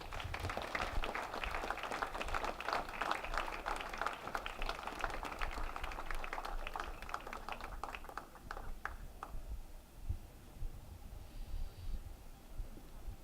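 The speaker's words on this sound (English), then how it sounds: "I think there's enough applause left for one more round for the class of 2017." A hall of fame induction ceremony audience claps steadily for several seconds, a dense sustained round of applause that gradually thins to scattered claps and fades out near the end.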